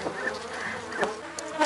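A large, strong honeybee colony buzzes faintly during a hive inspection, a soft, wavering hum with a few louder passing drones over about two seconds.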